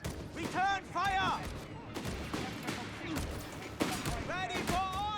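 Gunfire in Company of Heroes 3, with scattered rifle and machine-gun shots crackling at a distance under an excited commentator's voice and in-game unit chatter.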